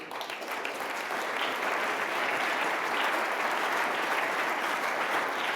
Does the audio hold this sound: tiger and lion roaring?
no